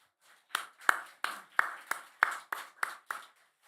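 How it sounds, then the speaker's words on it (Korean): Slow, rhythmic hand claps in a church sanctuary after a choir's song, about nine distinct, evenly spaced claps standing alone against quiet. "우리 찬양대에게는 우리 격려의 마음 담아서 크게 박수 한번 할까요"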